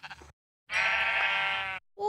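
A sheep bleats in Minecraft Pocket Edition, one loud, sustained, wavering call lasting about a second, with brief quieter sounds before and after.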